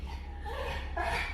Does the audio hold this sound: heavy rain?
no